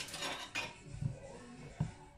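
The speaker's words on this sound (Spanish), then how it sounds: "Te lo voy a revolver con la cuchara." Spoon stirring food in a metal pot while cooking gorditas, with a few soft scrapes and two or three light clinks against the pot, quiet and close.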